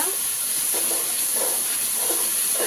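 Masala frying in a pan for raw banana curry, a continuous bright sizzle and hiss close by with faint stirring scrapes.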